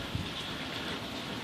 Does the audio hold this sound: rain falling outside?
yes